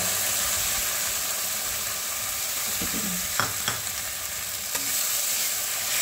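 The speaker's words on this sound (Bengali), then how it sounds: "টমেটো পেস্টটা দিয়ে একটু নাড়বো, টমেটোটা পুরো ভালো করে কষাবো না" Tomato paste poured into hot oil for a katla fish curry fries with a dense, continuous sizzle while a spatula stirs, adding a few brief scraping knocks midway.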